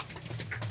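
A pigeon coos softly during racing-pigeon training in Pililla, Rizal: a brief, faint, low coo over quiet background hiss.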